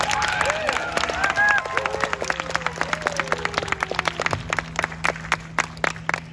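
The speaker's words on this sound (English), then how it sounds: "Please give them a round of applause." A crowd at the LEGO Movie World opening ceremony at Legoland California applauds with rapid, dense clapping that thins out toward the end, mixed with a few whoops and voices.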